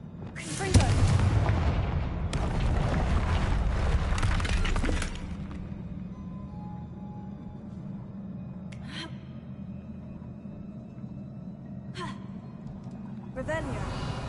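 Confringo blasting spell going off in Hogwarts Legacy, a loud burst of explosive crackling and shattering that rumbles for several seconds then fades into quieter ambience with a few sharp later hits; a voice speaks nearby.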